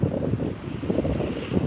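Wind gusting over a microphone during an evening walk in Hibiya Park, a steady low buffeting rumble that rises and falls with the gusts, with no voices.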